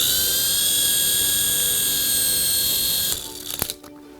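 A small toy drone helicopter's propellers whir at a high, steady whine for about three seconds, then cut out abruptly, leaving a few clicks and rattles as they stop.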